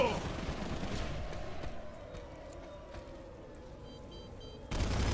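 Gunfire in the video game Planetside 2, a dense sustained barrage of shots and rumbling battle noise that continues steadily, then swells louder near the end.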